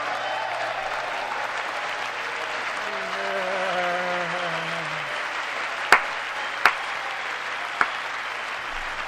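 Sustained applause from a large audience at the State of the Union address fills the hall, with a tone sweeping under the clapping midway and a few sharp single claps standing out near the end.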